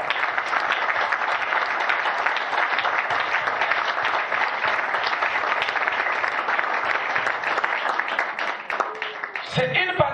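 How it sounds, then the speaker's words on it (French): A church or lecture audience in Cape Town applauds a testimony, steady dense clapping sustained at full strength for about nine seconds before breaking off abruptly near the end. "We can clap for the testimony of today."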